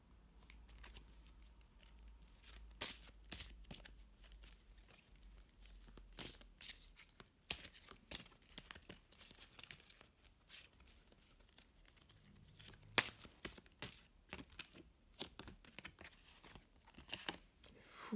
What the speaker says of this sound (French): On va essayer de tirer d'autres cartes pour qu'on soit un peu plus